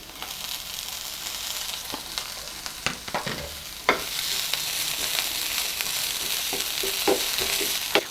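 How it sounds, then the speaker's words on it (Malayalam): Carrots cooking in a pan with coriander leaves are stirred steadily, a constant sizzle of frying broken by scraping strokes and clicks of the spoon against the pan, close and clear. "ഞാനിതിങ്ങനെ ഇളക്കി തന്നെ വേവിച്ചെടുക്കുവാണേ"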